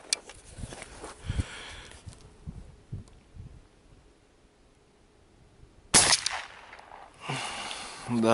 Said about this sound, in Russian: Да, выстрел хлесткий.